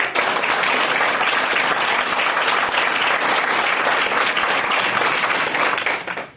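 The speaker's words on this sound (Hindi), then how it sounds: "एक बार जोरदार तालियां प्रवीण सर।" Loud, sustained audience applause at a business gathering, dense clapping filling the hall without pause for several seconds before cutting off abruptly.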